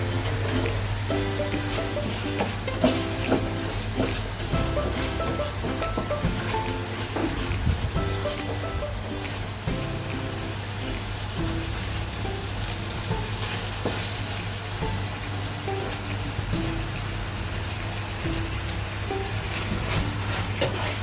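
Onions frying in oil in a pot for a traditional curry mutton, a dense, continuous sizzle with frequent scraping stirs and crackles, close and steady throughout with a constant low hum underneath.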